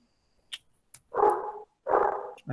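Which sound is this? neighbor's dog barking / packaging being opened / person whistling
neighbor's dog barking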